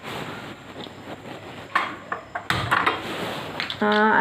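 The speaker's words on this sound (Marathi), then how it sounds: "गॅस लावल्यानंतर कढई ठेवूया त्याच्यावर आपण" Clatter of a kadhai set down on a gas stove in a home kitchen while making paneer bhaji: a few sharp metallic knocks and scrapes, then the burner clicking and lighting.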